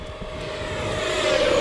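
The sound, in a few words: E-flite F16 Thunderbirds EDF RC jets at full throttle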